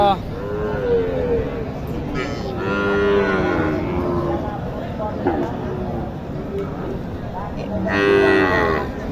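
A Sahiwal cow at Matajī cattle market in Naogaon gives several drawn-out, loud moos near the start, in the middle and at the end, with people talking throughout against a busy market background.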